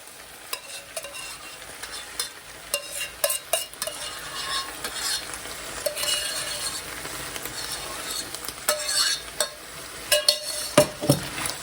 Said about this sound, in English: And give that a stir and let that cook for another 2 to 3 minutes